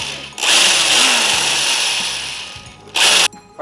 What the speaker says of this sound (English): I'm gonna drill a little bit bigger of a hole.